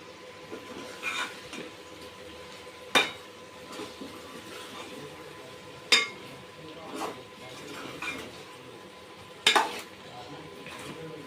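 Tomatoes stirred into hot oil in a pan for chicken curry: a few sharp spoon clinks against the metal spaced several seconds apart, with soft scraping and low background hum between them.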